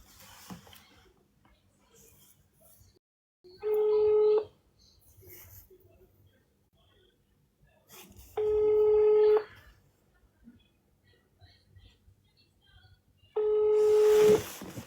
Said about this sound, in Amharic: ዋትስአፕ አይደለም ቀጥታ ነው እየደወልኩ ያለሁት